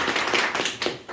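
An audience claps together in a short burst of applause lasting about a second, with dense overlapping hand claps and no speech over it.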